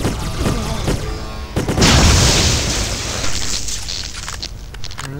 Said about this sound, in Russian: Ну, нифигово взрываются